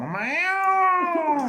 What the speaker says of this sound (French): C'est un chat sauvage